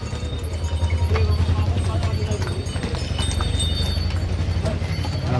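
Horse hooves clip-clop steadily amid a dense crowd murmur and background chatter outdoors at night on the Kedarnath pilgrimage trail from Gaurikund.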